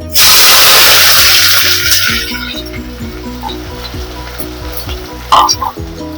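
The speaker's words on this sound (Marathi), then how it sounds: "आता मी तेजपत्ता घालून घेते आणि कांदा" Bay leaf and onion hit hot oil with a loud burst of sizzling that gradually settles into a steady frying hiss, with a low rhythmic hum underneath and a brief clatter near the end.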